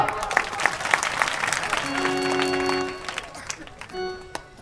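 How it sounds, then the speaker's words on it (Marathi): A short burst of clapping from a crowd comes through under and between a man's amplified speech, with some tonal music or feedback tones. "टाळ्या वाजवा."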